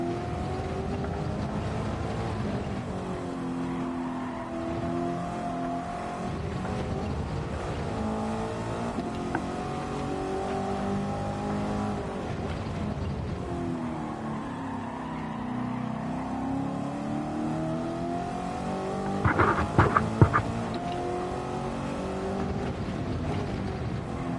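A TransAm race car called the Judge on a track, its engine droning steadily and loud, pitch swelling and falling through shifts and corners, with a brief sharper burst near the end.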